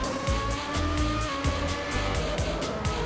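A 1994 Formula 1 car in Assetto Corsa brakes at Monza. The loud, close engine snarls with a quick run of rapid throttle blips, one downshift after another, and the pitch steps up and down with each gear.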